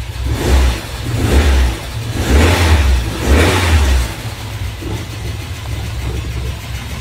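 A 1977 Ford Corcel engine revs up repeatedly in several rising pulses, loud and close, then settles back toward a rough idle.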